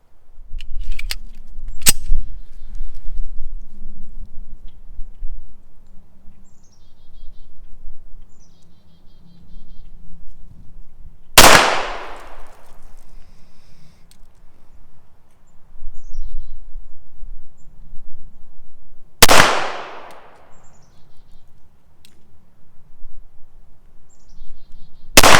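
Smith & Wesson 745 pistol fired at an outdoor range, three sharp loud shots spaced several seconds apart, with bird calls and faint background noise between them.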